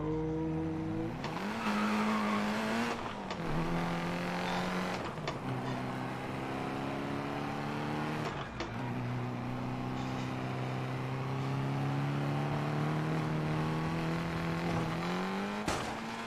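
A race car tears up the Pikes Peak hill climb in a racing video game, its engine loud and close with stepped gear shifts climbing and dropping in pitch, punctuated by tire squeal and skids through the corners.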